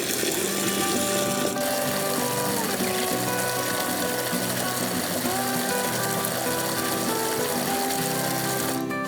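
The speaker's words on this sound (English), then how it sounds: "Take quite a while to fill the 5-gallon bucket." Water pours steadily and loudly into a 5-gallon bucket, a continuous rushing wash with a faint mechanical whir running through it from start to finish.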